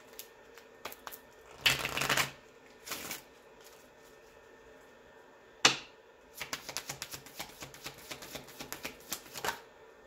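Moonology oracle cards being shuffled: two brief riffling bursts and a sharp slap, then a longer run of quick, close card flicks, with no talking.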